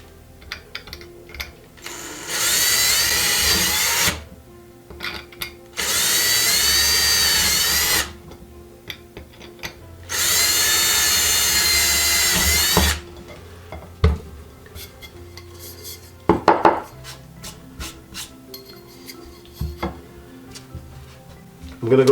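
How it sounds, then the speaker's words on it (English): Three bursts of a power drill boring holes for an Umarex Origin air rifle Strip Stak Pak install, each run a few seconds long with short pauses between, followed by quieter clinks and handling noises of the tool and parts. "So let me go ahead and get these holes drilled."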